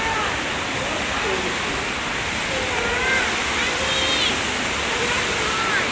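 Water flows steadily in a garden with a constant rushing wash, close and fairly loud throughout; faint sounds come and go under the flow.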